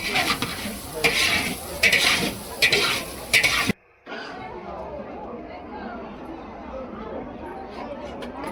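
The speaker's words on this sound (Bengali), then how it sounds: "এখানে হচ্ছে ডাল হবে, ডালটাকে ভাজা চলছে।" Lentils sizzle in a pan while being stirred, with scraping and clinking utensils under chatty voices; after a brief gap, the frying carries on.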